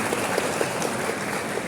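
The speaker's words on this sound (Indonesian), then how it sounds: "Aplaus dulu untuk kita semua." Applause from an audience at an election polling-station staff training session, a short burst of many hands clapping at moderate distance, even and fairly soft.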